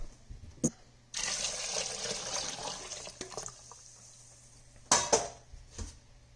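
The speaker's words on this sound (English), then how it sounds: "we're going to fill our pot back up with more water" Water runs from a tap into an Instant Pot in a steady rushing stream for a couple of seconds, framed by a few metallic clanks.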